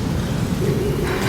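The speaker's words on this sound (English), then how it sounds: "An explosion?" A deep explosion rumbles inside a mine in Horizon Forbidden West, a dense, low, steady roar that stays loud across its brief span with no voices over it.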